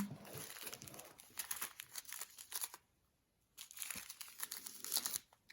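Plastic zip bags of diamond painting rhinestones crinkle and rustle in bursts close by, pausing briefly before the handling resumes with more crackling.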